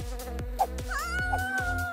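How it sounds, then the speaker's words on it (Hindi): A cartoon bee from a Poppy Playtime-style animation, buzzing loud and close over a rhythmic musical backing, with a wavering drone that rises and holds and no talking. "ओह मधुमक्खी"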